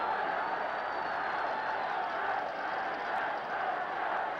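A packed football ground of about 55,000 spectators at Manchester United v Chelsea in 1965 gives off a steady, dense roar of crowd noise, continuous and even throughout with no distinct cheers or single voices standing out.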